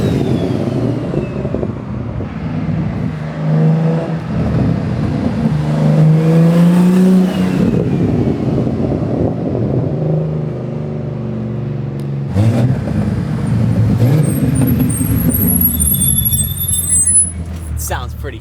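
A BMW M4 Competition fitted with a big turbo revs hard and drives past, its exhaust roaring and rising in pitch, with tire squeal, turbo whoosh and a blow-off chirp; people talk over the passing car.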